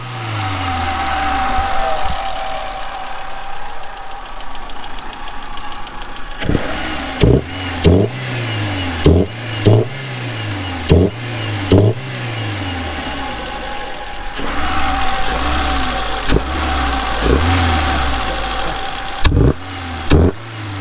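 A Renault Clio 1.4 K7J engine is started and left running after its throttle body was cleaned, settling into a loud, close, steady idle broken by a series of sharp throttle blips.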